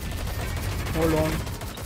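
Gunfire during a boss fight in Watch Dogs: Legion on PS5: a short stretch of rattling shots sits over a low rumbling backdrop, moderately loud and steady throughout.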